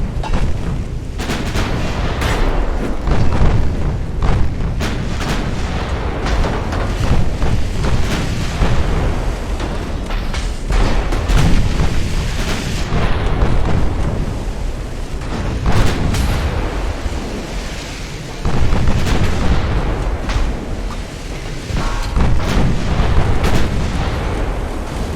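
Battleship main batteries fire in a naval battle in Ultimate Admiral: Dreadnoughts, with repeated heavy booming salvos and rumbling blasts rolling over one another throughout.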